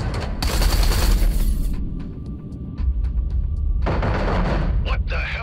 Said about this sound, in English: concentrate artillery fire on Blakemore's carrier